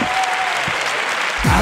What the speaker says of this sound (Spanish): Aplauso para Carmen, por favor